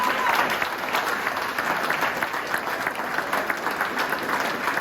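An audience at an election results announcement in a French town hall gives sustained, even applause, dense clapping that holds steady throughout.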